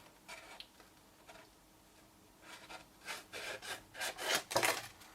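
Card stock being trimmed for a handmade box: a series of dry scraping, rasping cuts, quiet at first and then growing louder and closer together toward the end, with no talking.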